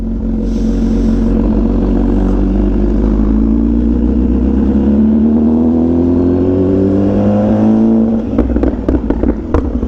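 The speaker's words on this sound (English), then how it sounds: "I've never heard a bike pop this loud" An Italian motorcycle's engine drones loud and steady, then its exhaust fires a quick burst of sharp, crackling pops near the end.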